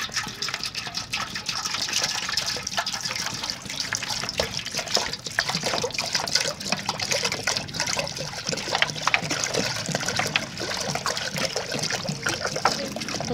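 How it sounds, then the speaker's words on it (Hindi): Water poured onto the ball-shaped top of a rose water distillation pot, a continuous trickling and gushing splash close by, steady for the whole stretch with no talk. "ऊपर वाला ये बॉल सा बना हुआ है, इसके ऊपर मैं पानी डाल देती हूँ।"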